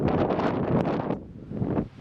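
A strong gust of wind roars and buffets the microphone, easing briefly before another rush of blustery air.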